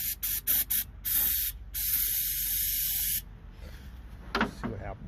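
Short bursts of starting fluid hiss from an aerosol can down a car's choke assembly, a few quick squirts followed by two longer sprays, close and loud, then a quiet tail with faint rustling.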